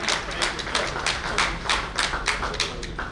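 Hand clapping from the audience at the valedictory session of a national convention, a fairly quiet, evenly paced series of distinct claps rather than a full roaring ovation.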